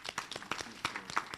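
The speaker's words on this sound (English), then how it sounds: "we must give them a round of applause" Scattered audience applause at a town hall meeting, a thin patter of a few hands clapping unevenly, faint and fairly distant, brief and without talk.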